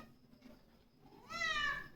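A cat sitting outdoors lets out one short, rising meow near the end, fairly close, following a quiet stretch of faint background noise.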